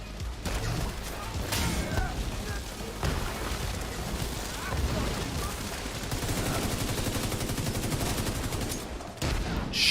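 Sustained gunfire from the video game The Division, rapid automatic bursts and heavy impacts running almost continuously and loudly, with voices talking over the shooting.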